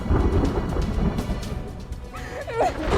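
A steady downpour with deep rolling thunder fills the scene, loud and continuous, and a voice briefly cuts through near the end.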